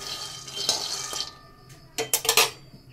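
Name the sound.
peanuts being dry-roasted in a wok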